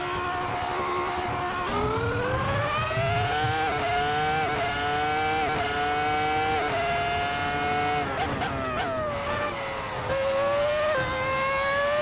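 Ferrari F2004 Formula One car engine in a racing video game, a loud high-revving whine that climbs steadily through the gears with brief dips at shifts, heard alone without talk.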